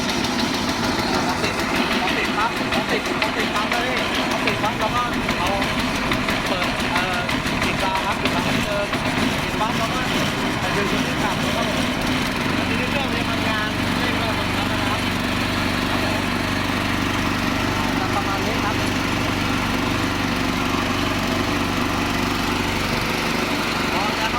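A portable field air compressor's small petrol engine starts after a pull and then runs loudly and steadily, a constant buzzing drone with someone talking over it.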